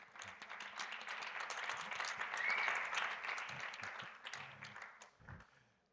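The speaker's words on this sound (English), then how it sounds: "I'll explain you later why this applause is justified." Sustained audience applause at an architecture biennale event in Venice, a dense wash of many hands clapping that swells in the middle and fades out near the end.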